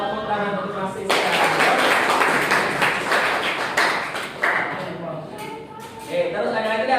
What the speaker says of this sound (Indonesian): tepuk tangan untuk Mas Siska